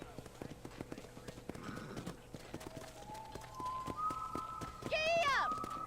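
Horse hooves clip-clop in a steady riding rhythm at a ranch in the Red Dead Redemption video game, a close, even trot under ambient game sounds, ending with a rising whistle-like tone.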